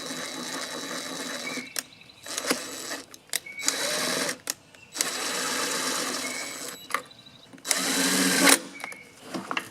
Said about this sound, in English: I usually like to go counterclockwise till I hear it click and then screw them in